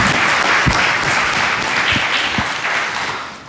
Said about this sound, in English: please join me in a warm round of applause before we get started for our friends in the journalistic community